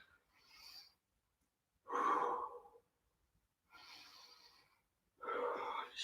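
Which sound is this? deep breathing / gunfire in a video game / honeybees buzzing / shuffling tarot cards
deep breathing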